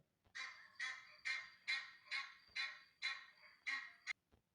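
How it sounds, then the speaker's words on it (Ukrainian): Geese cackle in a run of about eight loud, evenly spaced honking bursts, close and alone, with a brief pause before a final clipped call. "Гуси гелгочуть."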